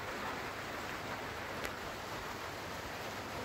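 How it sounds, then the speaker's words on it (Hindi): Rain falling in Georgia as evening approaches, a faint, even hiss of steady rainfall with no distinct drops standing out and no voices. "बारिश शुरू हो गया और अभी शाम होने वाली है"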